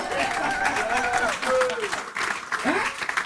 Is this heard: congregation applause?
yes